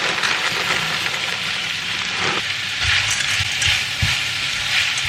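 Ground meat with freshly added carrots and green peas sizzles steadily in a hot pan, a continuous close frying hiss with a few soft stirring knocks.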